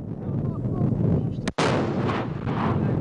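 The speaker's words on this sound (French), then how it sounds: "Des bombes à fragmentation, des obus de mortier et des missiles ont été dirigés vers l'occupant marocain." Wartime bombardment with cluster bombs, mortar shells and missiles: a loud continuous roar of distant explosions and fire, broken by one sharp blast midway, with no clear talking.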